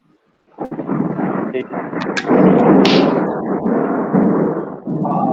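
Deep rumbling thunder from a storm rolls in after a brief silence and holds loud and continuous for about five seconds, with a short spoken remark near the start.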